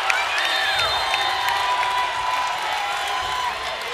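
Packed volleyball crowd in the Walter Pyramid during a Hawaii versus Long Beach State men's match, a loud continuous roar of cheering and shouting with whistles and whoops rising over it.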